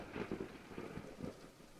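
Rain hisses steadily while rolling thunder swells in soft low bursts, a storm in the off-road truck game MudRunner, with nobody talking.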